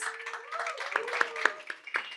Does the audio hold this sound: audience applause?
yes